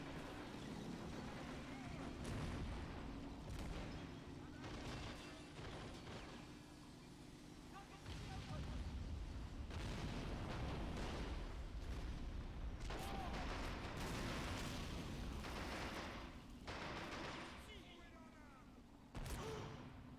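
In the Men of War: Assault Squad 2 battle game, thrown TNT detonates with deep booms amid rolling gunfire and tank noise, several blasts layered over continuous combat din.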